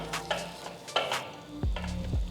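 A lentil pancake sizzles softly in a pan while being flipped, with a few scraping and clinking pan sounds and a soft thud as it turns over.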